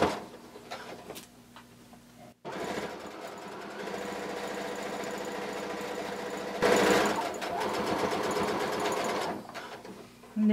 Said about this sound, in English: you're going to sew all the way down using a 1/4 inch seam allowance